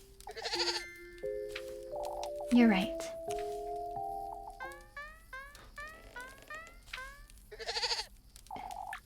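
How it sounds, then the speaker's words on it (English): A goat bleats repeatedly in the video game Little Goody Two Shoes, several wavering cries scattered between game music tones and a brief spoken line. "I can hardly think with that goat hopping about"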